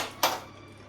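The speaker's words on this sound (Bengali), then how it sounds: "কড়াইটা বসিয়ে দিচ্ছি।" A metal kadai set down on a gas stove: one sharp clank of metal on the burner grate, close and brief, then a faint lingering hum.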